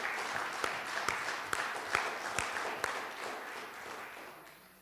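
A church congregation claps and cheers in praise, a dense, steady wash of applause with sharper individual claps popping out, fairly close and sustained before tapering off at the end.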